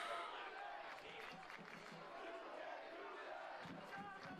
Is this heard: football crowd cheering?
yes